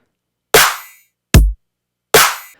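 A bare dubstep beat of only kick and snare: three isolated hits, a crisp snare, a deep kick, then another snare, each decaying quickly into silence.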